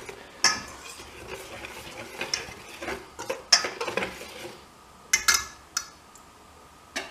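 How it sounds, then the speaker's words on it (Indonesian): Rice flour and salt stirred together in a bowl, with a few quiet scrapes and light clinks of a utensil against the side, sparse and close with near-silent gaps between strokes. "Combine these really well, dan aduk rata"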